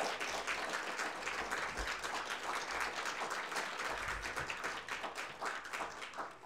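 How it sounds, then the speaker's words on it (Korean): A church congregation applauds at length after a retirement tribute during a Sunday worship service, a dense, steady wash of many hands clapping that holds for several seconds and eases slightly at the end. "박수를 오래 쳐주시네."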